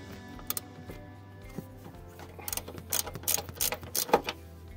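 A ratchet wrench loosens a bolt on the gear shifter of a VW Beetle, giving several short bursts of quick mechanical clicking that grow louder and busier toward the end, heard close up with no talking.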